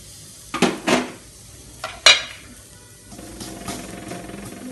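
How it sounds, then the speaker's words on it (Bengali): Onions added to oil in a pan for tomato chutney: a few clattering knocks of utensils against the pan, then a soft, steady sizzle of frying that continues to the end. "এখন আমি এক সাইডে পেঁয়াজগুলো দিয়ে দিব"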